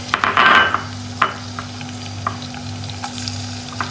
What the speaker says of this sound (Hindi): पहले पैन में मैंने चार बड़े चम्मच ऑयल के डाले हैं, अब मैं इसके अंदर अदरक लहसुन चॉप